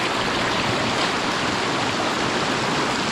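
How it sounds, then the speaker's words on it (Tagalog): Heavy rain pours down beside flooded rice paddy water, a dense, loud, continuous roar that stays steady throughout with no voices. "Lakas ng ulan ay."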